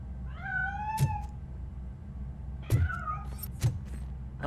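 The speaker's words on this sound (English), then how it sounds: "I'm afraid this time it's a one-way street, Mr. Cat." A cat in the video game RoboCop: Rogue City gives two clear, close meows, rising and falling in pitch, with a few soft thumps between them against a low background hum.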